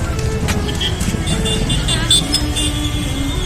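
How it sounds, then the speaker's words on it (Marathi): Busy road traffic near Baga beach in Goa makes a steady nearby rumble of engines, with passing cars and motorbikes and faint horn-like tones mixed into the crowded street noise. "जागा आहे पण भरपूर ट्रॅफिक झालंय"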